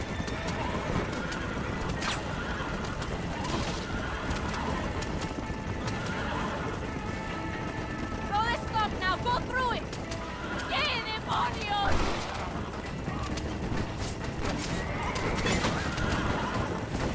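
A horse in Red Dead Redemption gallops with steady rapid hoofbeats, neighing loudly in several sharp whinnies midway, while someone talks over the action.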